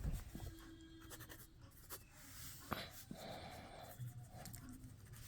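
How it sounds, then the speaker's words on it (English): Pen writing a question by hand on paper, faint scratchy strokes in short bursts with quiet breathing and light handling noises in a hushed room. "So let me write the question first."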